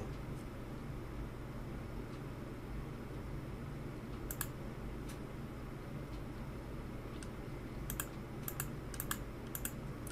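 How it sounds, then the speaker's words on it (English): Short bursts of clicking keys on a computer keyboard as a code is entered, quiet and close against a steady low hum, with scattered quick clusters of taps. "you need to type the code 103 on there"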